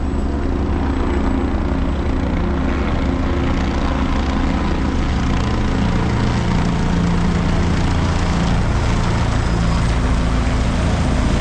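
Helicopters fly at the Kedarnath helipad, making a loud, steady rotor and engine drone that fills the whole stretch without a break. No one talks over it.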